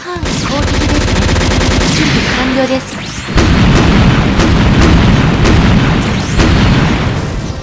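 Rapid gunfire from weapons in the SD Gundam Online mecha shooter, with a Zaku II R-1A Black Tri-Star Custom in play: dense, loud bursts of automatic fire and booming impacts that run continuously, briefly dip, then resume even harder.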